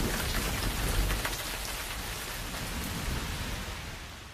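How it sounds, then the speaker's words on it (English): Heavy rain pours down in a dense, steady hiss, loud and continuous with no talk, easing only slightly toward the end. "it was raining hard here"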